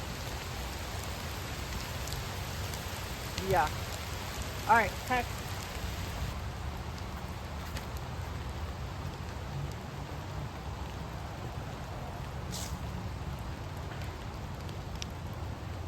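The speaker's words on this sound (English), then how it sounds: "Oh, we're gonna be dodging raindrops." Steady rain falls outdoors during a disc golf round, a dense broadband hiss of drops under the whole stretch, while someone speaks a few brief words near the middle.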